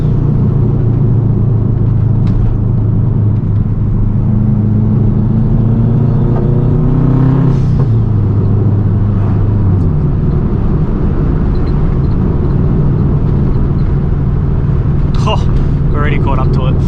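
Straight-piped Subaru WRX hawkeye with a loud, continuous exhaust drone while driving, pitch climbing then dropping as it shifts, with a voice talking over it.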